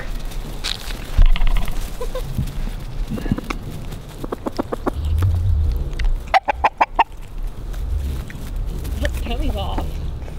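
Chickens cluck and call close by in an outdoor yard, with a person speaking and imitating their clucking calls between the birds' sounds, plus a burst of rapid clucks near the middle.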